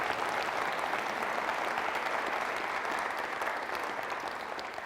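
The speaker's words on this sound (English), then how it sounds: "Can we just give a round of applause for their team?" Steady audience applause at a public conversation event with Governor Jay Inslee, dense even clapping that fills the room, fairly distant and sustained, easing slightly at the end.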